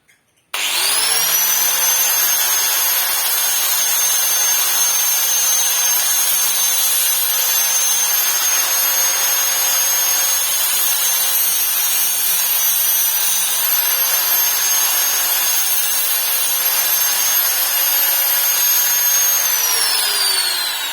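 A power tool sharpens a homemade spear-gun fishing dart made from scrap materials, giving a loud, continuous grinding whine that holds steady for about twenty seconds after a sudden start.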